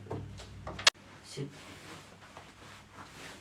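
A door shuts with one sharp, sudden knock, followed by quieter room sounds and faint movement.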